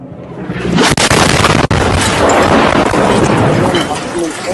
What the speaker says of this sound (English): Moment of explosion.